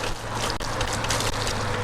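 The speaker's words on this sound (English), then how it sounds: "just to reduce the amount of splash we got here." Xiaomi Mi Scooter rolling through puddle water on a rainy road, a steady close hiss of spray and splashing that runs throughout without pause.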